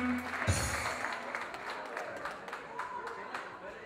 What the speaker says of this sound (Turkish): Mehmet Bey'i bir alkışlar mıyız?